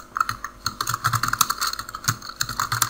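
Java code is typed on a computer keyboard in a quick, uneven run of close, crisp key clicks that continues steadily with no voice.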